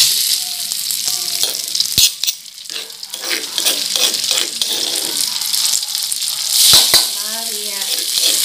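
Ground spice paste for a spicy bitter gourd stir-fry sizzles loudly in hot oil with a steady crackling hiss, broken by scraping stirs and clanks of a utensil against the pan.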